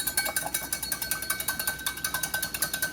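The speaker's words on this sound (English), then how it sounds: "we're going to whisk that with white balsamic. So we're going to take that and whisk it like this" Whisk beating a white balsamic dressing in a bowl, rapid rhythmic metallic clicks and taps at a steady quick pace, close up with no talking.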